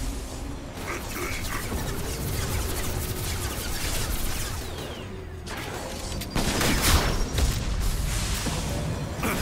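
Gunfire and booming explosions from a Mass Effect 2 combat fight on a hard difficulty setting, a dense continuous rumble with heavier bursts toward the end, with faint talk at times.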